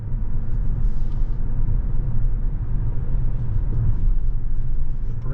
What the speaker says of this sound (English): We're going to take this right bend up here,